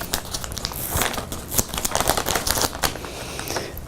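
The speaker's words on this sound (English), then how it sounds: "So first we'll take it out of its bag, and I'll remove the tape." A sample lifted out of a plastic bag, then tape peeled away: continuous close, loud crinkling and rustling with sharp crackles and ripping bursts throughout, no voices.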